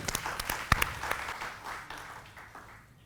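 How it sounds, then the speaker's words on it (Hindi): A short burst of hearty audience applause rings out at a Doordarshan foundation day event, with a few sharp claps up front before it thins out quickly. "शमी सर के लिए एक बार जोरदार तालियां हो जाए।"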